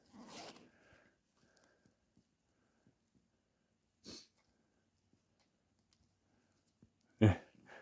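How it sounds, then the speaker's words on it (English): A broken jacket zipper that rips open when started is tugged in short, quiet rasps: a soft pull at the start, another midway and a sharper, louder zip near the end, with long quiet gaps between. "every time she tries to get it to start zipping, it just rips right open"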